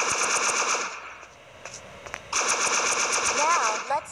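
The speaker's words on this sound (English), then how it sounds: "Aim at them with the crosshair and press the button to shoot." Rapid automatic gunfire from the ShellFire mobile shooter video game, a dense loud burst that stops, then resumes after a short pause, with game music and effects throughout.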